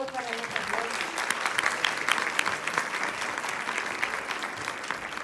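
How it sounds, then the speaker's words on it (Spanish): An audience applauds for Ana Carlota at a literary event, with dense, steady clapping from many people filling the room the whole time. "Les pido un aplauso, por favor, para Ana Carlota."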